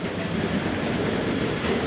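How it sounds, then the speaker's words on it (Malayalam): The Malabar Express departs Kozhikode railway station at night, rumbling past steadily and loudly, a dense continuous roar of wheels and carriages close by. "ആ പോകുന്ന ട്രെയിൻ മലബാറാണ്"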